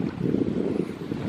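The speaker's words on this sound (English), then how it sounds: "Big waves." Waves slap against a small boat crossing Fort Boggy Lake in Houston County, a rough, churning wash mixed with wind buffeting the microphone, close and continuous with no voices.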